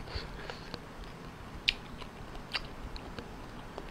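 Raw shellfish, bitter-melon clams, being chewed with a crisp crunch, close and fairly quiet, irregular bites and crackles recurring over a few seconds.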